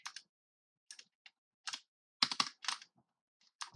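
Keystrokes on a mini 60% computer keyboard come in short irregular bursts of crisp clicks with quiet gaps between them, close and fairly faint.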